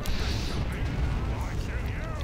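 Grenade explosion in a strategy video game battle against orcs, a dense rumbling blast with crackling debris that fills the whole moment, heavy low-end roar, with faint game commentary underneath.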